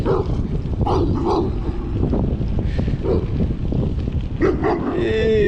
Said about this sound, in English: Lots of big dogs.